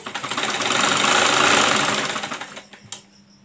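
A sewing machine stitches a baby girl's frock, making a fast, loud, close mechanical whirr that rises and holds, then slows to a stop with a final clack.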